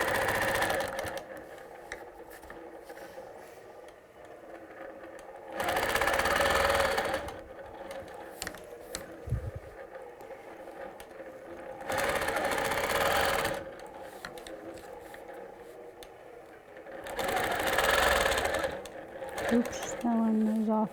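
Sewing machine stitching pebble circles on a quilt, running in three loud bursts of rapid steady needle rattle separated by quieter pauses, with a person talking throughout.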